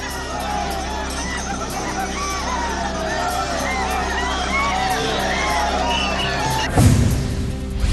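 A large crowd of devotees gathers at the Sant Dnyaneshwar palanquin procession, a dense steady hubbub of many voices blending into continuous chatter, with a brief louder surge near the end.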